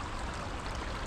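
Steady broadband rush of a river flowing past a tree lying across it, a close, continuous wash of water with no pauses and no voices.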